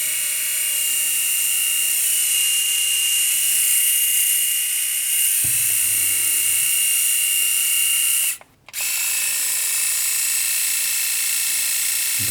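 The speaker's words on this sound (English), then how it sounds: "I will make you hear the sound of the main rotary unit and the trimmer blade" A Philips AquaTouch S3122/55 Series 3000 rotary electric shaver runs its main rotary unit and trimmer blade with a steady, close, high-pitched motor whine that shifts in tone partway through and cuts out briefly before resuming.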